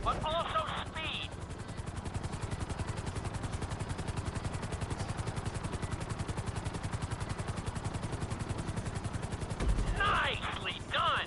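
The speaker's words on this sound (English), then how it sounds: "Let's go on a short tour of the city, and we'll see how well you handle the chopper." A helicopter in GTA 5 flies with a steady, rapid rotor chop throughout, loud and close, with brief bursts of other sound near the start and end.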